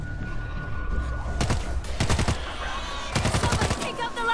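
An Uzi submachine gun fires in a video game, in several rapid bursts of sharp, closely spaced shots with short gaps between them, loud and close.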